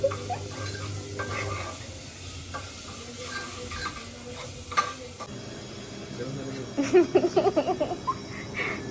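Masala-coated pomfret sizzles steadily on a hot griddle with no voices, and a burst of spatula scraping and clinking picks up near the end.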